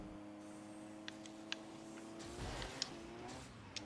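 Car engine sounds from the video game Rocket League play quietly, a low droning hum that swells into a brief revving burst, with a few faint clicks and short chimes scattered through.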